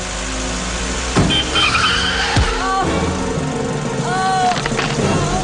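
A car drives along with steady engine noise, and tires squeal briefly in a few sharp bursts. The sound comes from a low-budget action film in which a driver takes a woman home.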